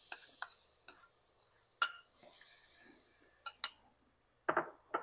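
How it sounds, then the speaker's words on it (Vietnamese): Oil and minced garlic are stirred together in a pot for a Vietnamese shrimp crab noodle soup. A utensil makes faint, scattered clinks and taps against the pot, with quiet pauses between them. "Mình trộn đều như thế này."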